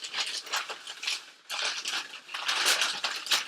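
A shrink-wrapped Uncanny X-Men Omnibus Vol. 3 comic being unwrapped, with close, bursty crinkling and tearing plastic in uneven bursts and a brief lull midway, louder toward the end.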